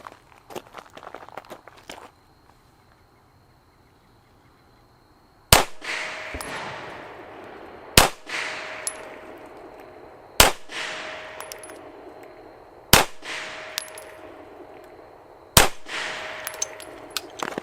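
Five sharp pistol shots from a Steyr M9 fired at a target seven yards away, spaced about two to three seconds apart, each loud crack trailing into a ringing decay, after a few soft handling clicks and a short quiet stretch.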